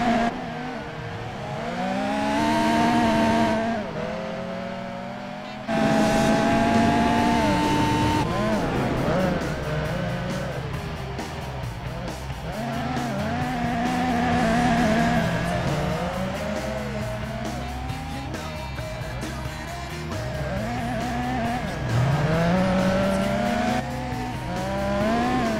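Race cars in a Gran Turismo 4 replay, engines revving up and down through gear changes as they pass, with tire squeal now and then, loud and continuous with brief cuts between camera angles.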